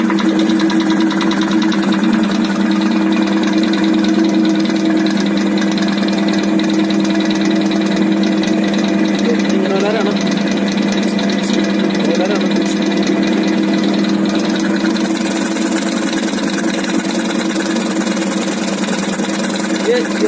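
A repaired air compressor motor runs steadily after being started, giving a loud, continuous mechanical hum with a faint rattle that holds level throughout.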